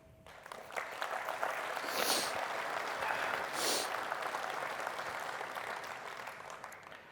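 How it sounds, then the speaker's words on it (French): Sustained applause from an audience at a departmental hunters' federation general assembly in Ardèche, a dense steady wash of clapping lasting throughout, fairly loud and continuous with no talk over it. "Ils méritent nos applaudissements."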